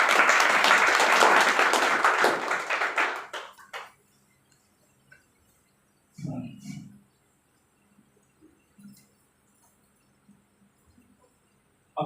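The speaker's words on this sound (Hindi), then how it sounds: "सर के लिए जोरदार तालियां होनी चाहिए।" Loud audience applause for an honoree at an AWPL team recognition event fills the first three seconds, then fades out, followed by near silence with a few faint thumps and a brief burst of noise.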